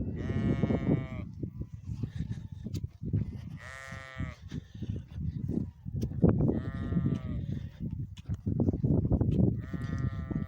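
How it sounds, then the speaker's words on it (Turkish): Several loud, drawn-out sheep bleats rise over a noisy farmyard background, calling again and again at close range. "Anası uyan diye bağırıyor, meliyor."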